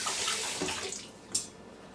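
Tap water runs steadily over a hand being rinsed at a kitchen sink while cooking smothered chicken, a close, continuous splashing hiss with a slight surge near the end.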